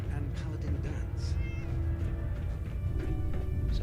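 A cat meows a few times in the video game Fallout 4, mid-distance over steady game ambience and background music, with a voice talking over part of it.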